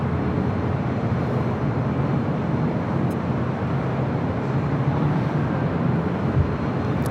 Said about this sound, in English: Queen Air Cargo 777 freighter taking off there on 25 left on the south side